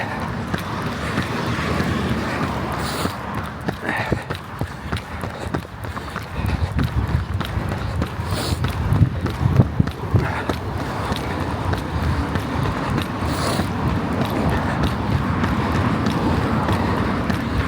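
Running footsteps in Puma Fast-R Nitro Elite 3 shoes at a steady 5k pace outdoors, an even rhythm of footfalls under constant wind noise.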